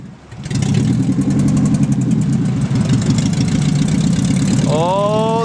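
A Nissan 720 pickup truck with a swapped KA engine runs loud and close, a steady mid-pitched engine drone that starts up and holds through the drive, with voices briefly near the end.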